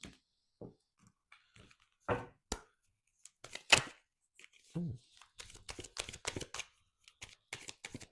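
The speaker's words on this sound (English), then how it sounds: "Okay, one more shuffle. Here we go. Cards are ready." Tarot cards being shuffled in scattered short riffled bursts and taps, close and crisp, with brief pauses between them and no talk over them.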